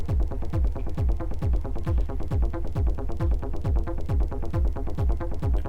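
Pitched-down synth drone sustains beneath a pounding techno groove, with a steady four-on-the-floor kick thumping loudly about twice per second and busy ticking hats on top, all electronic with no voices.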